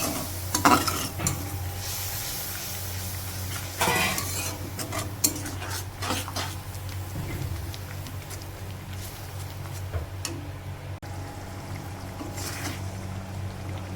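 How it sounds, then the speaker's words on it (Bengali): Spice paste stirred and frying with water in a pan for a simple home-cooked vegetable curry, a steady sizzle with utensil scrapes and clinks across the pan, close and continuous. "জল দিয়ে মশলাটা ভালো করে কষিয়ে নিতে হবে।"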